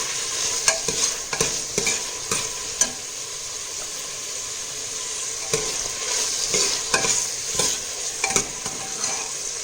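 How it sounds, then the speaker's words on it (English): Dal, onion and tomatoes frying in a pan with a steady sizzle, while a utensil stirs through them in repeated scrapes and clicks. It sounds close, continuous and fairly loud, with no talking. "You can get a fine aroma of the dal, onion and tomatoes blending together and frying."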